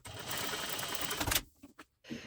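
A sewing machine quilting fabric for an organizer runs in a fast, continuous whir for over a second and then stops. A few faint handling noises follow.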